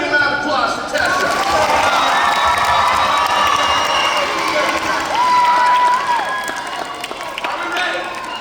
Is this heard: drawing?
no